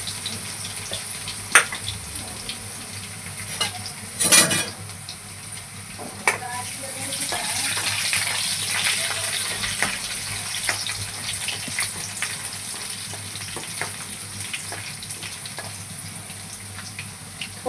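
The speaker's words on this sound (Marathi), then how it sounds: "लसणाला पण थोडंसं छानसं भाजून घेऊया." Garlic frying in a pan, a steady soft sizzle with scattered crackles and pops and a brief louder burst near the start, with no talk over it.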